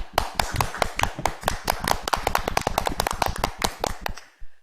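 Audience members at a lecture on clean energy access by Professor Jon Lovett clap in crisp, distinct strokes. The sharp claps come close and fairly loud from a smallish group, continuing for a few seconds before stopping.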